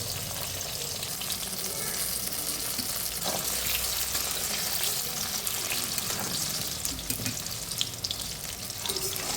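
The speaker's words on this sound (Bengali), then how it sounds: "বেগুনটাকে আমি একদম লাল লাল করে ভেজে নেব" Eggplant pieces fry deep red in hot oil for a mixed vegetable labra, making a loud, continuous, close sizzle with faint stirring that stays unbroken for the whole stretch.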